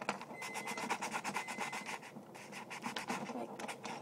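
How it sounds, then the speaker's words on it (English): Sandpaper rubbing back and forth on the plastic body of a custom Nerf Secret Strike blaster, a quick, rhythmic rasping scrape with a brief pause midway, close and fairly quiet. "sand it a little bit more"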